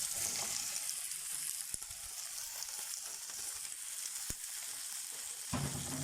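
Marinated chicken pieces for shawarma hitting a hot pan, giving a steady, close crackling sizzle throughout with a few sharp pops and no talk.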